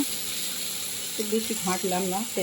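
Pumpkin curry sautéing in a pan gives a steady, soft sizzling hiss throughout, with a voice talking over it during the second half.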